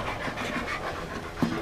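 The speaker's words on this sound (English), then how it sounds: "that mad dog's loose" A loose dog that has been acting vicious pants quietly in short, soft rhythmic breaths, heard up close and alone, with one brief louder puff near the end.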